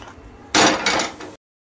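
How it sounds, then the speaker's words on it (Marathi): A metal tawa griddle set down on a kitchen stove while making moong dal paratha gives a loud clanking, scraping burst of metal against the burner lasting under a second, close up with no speech. "त्यासाठी आपण तवा ठेवूया"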